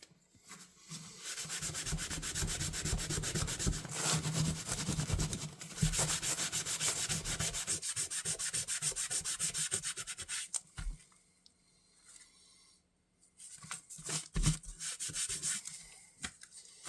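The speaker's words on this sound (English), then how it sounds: "but we're going to wipe it down" A Sabre fish knife being wiped down to remove light build-up, heard as a long steady rubbing swish for about ten seconds, a pause, then shorter bursts of rubbing, close and fairly loud.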